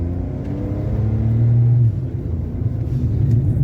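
A car engine drops from fourth to third gear on its own and blips the revs to match, a close steady rumble that swells and sustains a droning tone before settling back into an even hum.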